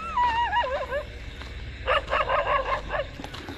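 A dog barks in a quick, uneven burst of several yips, moderately loud against a steady low background hum, after an earlier stretch of whining tones.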